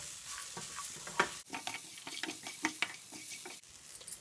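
Grated coconut sautéed in a pan while being stirred for a brinjal gravy, with a faint sizzle under frequent light scraping and tapping strokes of a spoon, a couple of them sharper.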